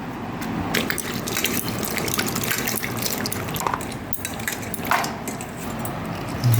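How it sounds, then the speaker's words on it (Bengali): Water running and splashing as Malabar spinach (pui shak) leaves are washed, a continuous close gush broken by a few knocks and handling noises, with no speech. "শাকগুলো আগে ভালো করে ধুয়ে নেব, ধুয়ে তুলে নেব, তারপর কাটবো।"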